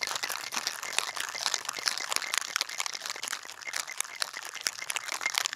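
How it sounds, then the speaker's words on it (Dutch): Ice rattles inside a cocktail shaker during a summer cocktail preparation, a dense stream of crisp clattering hits that stays fairly loud and continuous, with no voices. "We gaan wat shaken, hè. Het geluid van de zomer."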